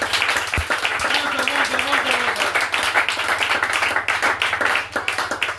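A church congregation claps in close, dense, steady applause throughout, with a voice briefly heard underneath.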